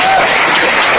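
An audience at a talk on joining Vestige breaks into loud, dense applause, a sustained clatter of many hands clapping close by for the whole second.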